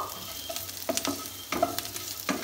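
Ground garam masala is stirred and roasted in a pan over a low flame, a soft close sizzle with scraping spoon strokes at an uneven rhythm.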